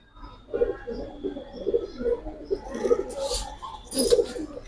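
Giribaz pigeons cooing close by, a series of soft, throaty rolling coos repeating every half second or so, with a few brief higher chirps and light background noise.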